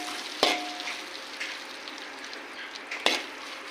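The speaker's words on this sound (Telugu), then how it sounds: "చూడండి, ఇలా ఫ్రై అవుతుంటుంది." Dried red chillies, cardamom, cinnamon and cloves fry in a pan with a soft, steady sizzle, broken by two sharp clinks of a stirring spoon against the metal.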